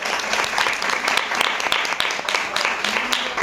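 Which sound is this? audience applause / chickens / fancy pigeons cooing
audience applause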